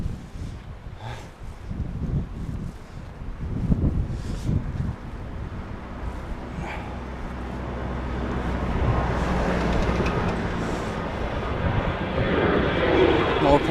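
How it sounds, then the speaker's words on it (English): Airplanes taking off near Mackenzie Beach in Larnaca, Cyprus, a jet engine roar that builds steadily and grows louder toward the end over gusty wind noise on the microphone, with no clear talk. "More planes taking off."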